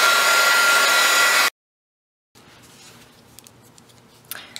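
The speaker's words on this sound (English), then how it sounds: "if you want to speed it up, is take your heat gun to it" A heat gun blows steadily over crafting paper being dried, a loud broadband whoosh for about a second and a half before cutting off, followed by quiet room noise with faint light handling sounds.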